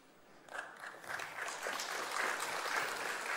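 An audience at a youth ensembles spring concert breaks into applause, swelling from a few claps to steady, full clapping that continues to the end.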